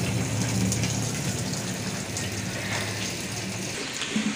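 Water gushes steadily from a village tap where villagers collect water, a continuous rushing flow with a faint mechanical rattle, loud and close, with no one speaking.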